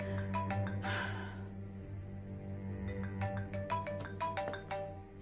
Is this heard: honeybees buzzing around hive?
no